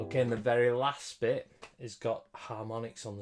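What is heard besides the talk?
No everyday noises stand out.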